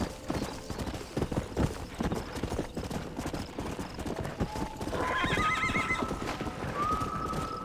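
A horse in Red Dead Redemption clops along in a quick, steady hoofbeat rhythm, then lets out a loud, clear whinny partway through, with game ambience underneath.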